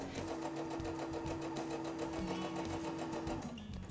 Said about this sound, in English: she's going to follow that rubber band to the end of the seam. So see how straight we can sew by following that rubber band?